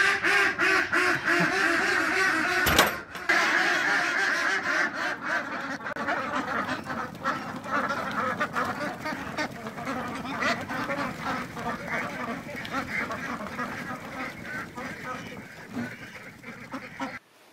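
Farm ducks quack in a steady, overlapping chorus close by, with a sharp knock early on and goose-like honks mixed into the dense flock noise.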